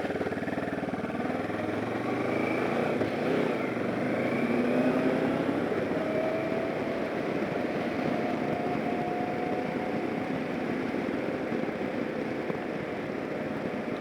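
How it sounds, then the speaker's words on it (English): Steady engine drone from a brand-new 2011 Kawasaki Versys motorcycle with about 600 miles on it, a continuous mid-range hum recorded close up with wind rush, holding an even level throughout with no talking. "this is my brand new 2011 Kawasaki Versys"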